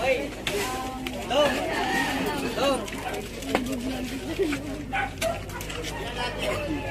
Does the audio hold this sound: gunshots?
no